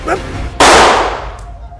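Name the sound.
gunshot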